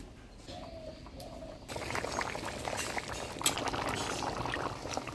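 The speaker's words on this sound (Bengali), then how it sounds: "এবার জল দিয়ে দিই। ঝোল দিয়ে দিলাম। এবার মাংসটা আমি আস্তে আস্তে জাল দিই।" Mutton curry with papaya on a clay stove: water pours in after a quiet start, then a steady bubbling simmer continues, with faint bird coos in the background.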